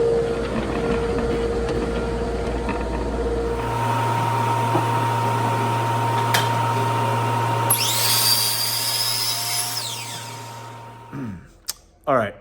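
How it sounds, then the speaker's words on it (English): A steady, loud mechanical whine from woodworking machinery while solid wood center panels for cabinet doors are being prepared, running continuously with a pitch shift partway through and a few brief knocks as it winds down at the end. "now over to the chop saw."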